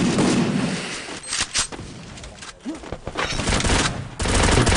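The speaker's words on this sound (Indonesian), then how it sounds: "Terdengar suara tembakan" Rapid bursts of Free Fire gunfire during a tournament semifinal, sharp cracks and volleys in quick succession with brief pauses between them, loud and close.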